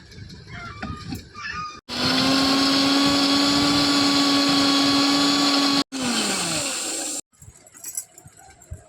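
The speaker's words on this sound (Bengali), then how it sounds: "এবার মশলাটা মিক্সিতে বেটে নেব" A kitchen mixer grinder blends spice paste for a Bengali egg curry in two loud, steady whining runs, a long one and then a short one, separated by a brief pause, with quieter kitchen clatter before and after.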